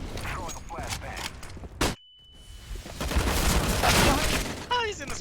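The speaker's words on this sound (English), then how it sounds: "Throwing a flashbang." A flashbang grenade goes off in a tactical shooter game, a sharp loud burst followed by a sudden ringing silence, then noisy in-game clatter and gunfire-like bursts that build again.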